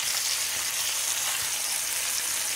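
Chicken roast and potatoes sizzle and fry steadily in a pan on a low flame, a continuous close hiss with no talking.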